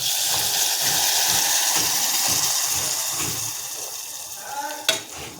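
Lentils with turmeric being stirred in a pan, a steady close sizzle with soft rhythmic scraping strokes, ending in a brief clatter.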